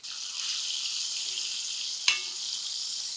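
Bitter gourd pieces sizzle steadily in hot oil in a pan, with one sharp clack of a utensil near the end.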